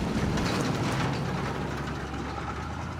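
A Chevrolet Impala engine idling, a continuous low rumble with a steady throbbing undertone, close and unchanging throughout with no voices.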